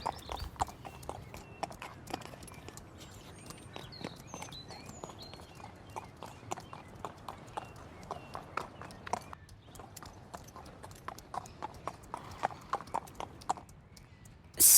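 Steady rhythmic hoofbeats of a horse cantering in the Star Stable video game, with regular clip-clop strikes continuing throughout at moderate volume and no voices.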